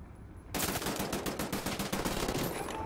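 Gunfire in Wolfenstein: The New Order, a sudden loud burst of rapid machine-gun fire that keeps rattling at close range after a quiet start.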